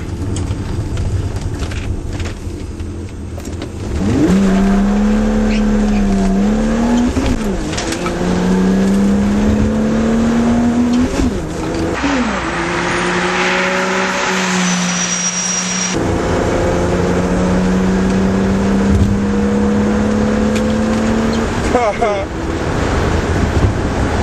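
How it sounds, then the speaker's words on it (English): A BMW fitted with a cold air intake accelerates hard while merging into traffic. The engine's drone climbs in pitch through several gear changes over steady road and wind noise. "that cold air intake system sure gives us the extra oomph we need, especially in a merge like that"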